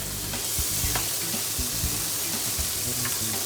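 Bacon frying in a pan during carbonara cooking, a steady close sizzle with soft scraping and stirring bumps as the strips are tossed around, no talk.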